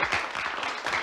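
A short burst of golf-clap style applause from a sound effect, a brief patter of light, scattered hand claps, moderately soft.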